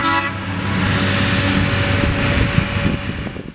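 Horn salute from a railroad maintenance-of-way vehicle used for adjusting track ties, a sustained steady horn tone held for most of the moment, loud and fairly close, over a rumbling engine background.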